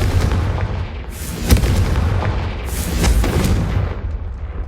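Two heavy blasting-spell explosions from Hogwarts Legacy, each a sharp boom with a rumbling tail over constant loud battle noise, the second bursting about a second and a half after the first.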